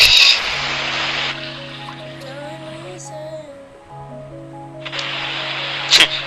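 Car Parking Multiplayer game car driving: a steady synthetic engine drone with sustained tones, opening and closing with louder bursts of rushing noise, no talking.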